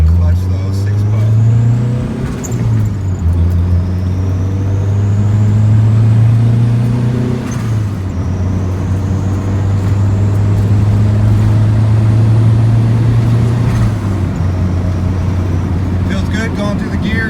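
A turbocharged Honda Civic hatchback with a Stage 4 competition clutch idles steadily and a little high just after its first start. It is loud and close, with a couple of brief throttle blips and someone talking over the engine.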